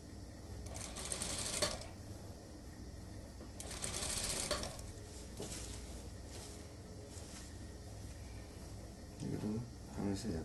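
A sewing machine stitches the hem of a suit sleeve in short runs, its rapid needle clatter starting and stopping several times, with soft fabric handling between bursts.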